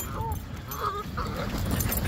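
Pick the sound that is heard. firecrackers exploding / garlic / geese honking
geese honking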